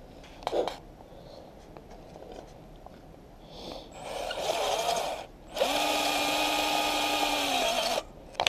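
A power drill bores 25mm deep into a switch plate while wiring 12 volt LED lights in a garage, whirring up in two bursts, the second a longer steady high whine, after a quiet stretch with a few knocks.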